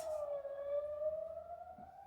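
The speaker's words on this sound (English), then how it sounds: "we'll just stop for the sirens" Wailing sirens of fire, ambulance and police vehicles rise and fall steadily over a continuous hum, loud and sustained, as the vehicles pass close by a fire station.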